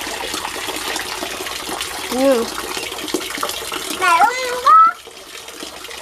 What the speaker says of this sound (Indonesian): Udah deh, matiin airnya deh